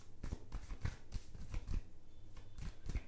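Tarot cards are drawn and handled from a deck, giving a quiet series of soft, close papery flicks and slides at a loose, repeated rhythm.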